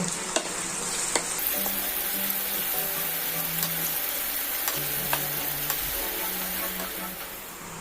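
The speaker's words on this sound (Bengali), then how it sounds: "পেঁয়াজগুলোকে আমি ভাজা ভাজা করব।" Onions frying in mustard oil with a pinch of salt, a steady close sizzle broken by the scrape and clatter of a spoon stirring the pan, with no talking.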